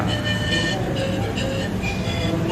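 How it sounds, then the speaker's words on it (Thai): Steady station ambience at Hua Lamphong railway station in Bangkok around five in the morning, a continuous broad rumble and hum with faint higher tones drifting in and out, no clear voices. "ดูบรรยากาศสถานีรถไฟหัวลำโพงช่วงตีห้า"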